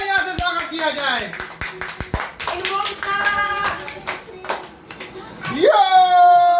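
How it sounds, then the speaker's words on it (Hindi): Family members at a home birthday celebration clap in welcome, a series of sharp hand claps at first, then continuing under excited children's voices and singing. "तालियां से स्वागत किया जाए।"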